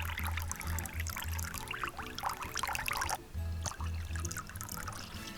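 Canned beans being rinsed under running water: a continuous splashing, trickling stream with a low background hum.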